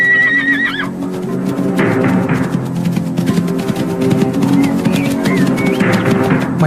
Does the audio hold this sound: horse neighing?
yes